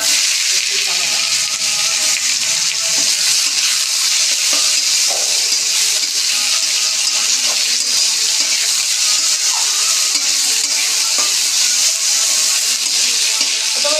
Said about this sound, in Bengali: আমি এখন বসিয়ে দেবো সেই চচ্চড়িটা করবো। সেই চচ্চড়িটা আজকে একটু পেঁয়াজ দেবো